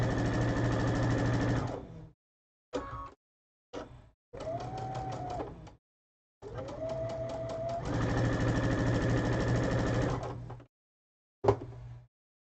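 A sewing machine chain-pieces quilt star blocks, stitching in bursts of varying length separated by short pauses, close and clear, with no talking.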